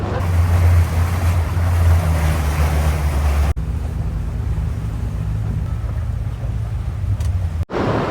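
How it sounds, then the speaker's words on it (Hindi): Traditional wooden abra boat crossing Dubai Creek, a steady loud engine rumble mixed with wind and water wash, which drops sharply partway through to a quieter hum with a brief thump near the end. "अब चलते हैं जी, हम अपनी बोट पे बैठते हैं।"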